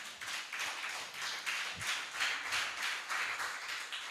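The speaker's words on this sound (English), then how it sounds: "A round of applause for yourselves again." Applause from a conference audience at an export summit in Nigeria, a steady wash of many hands clapping at moderate distance with slight swells, continuing throughout with no talking.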